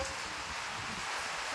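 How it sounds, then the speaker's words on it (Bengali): Wind blowing outdoors in rainy weather, a continuous even rushing noise like air stirring through leaves, steady and fairly close for the whole moment. "কিন্তু দেখো কি সুন্দর হাওয়া দিচ্ছে, চুলটুল উড়ে যাচ্ছে"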